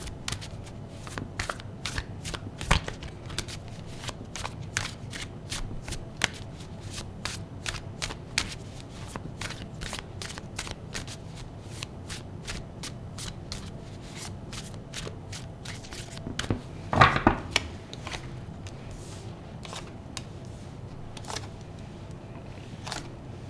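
Tarot cards being shuffled, a long run of quick, crisp riffling flicks in steady rhythm with a louder clatter near the end, close and fairly quiet with no talking.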